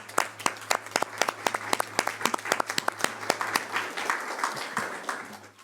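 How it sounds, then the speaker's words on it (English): Clapping from an audience at a board of education meeting, heard up close, with distinct individual claps forming a steady ragged rhythm that holds for several seconds. "Can we please give them a round of applause?"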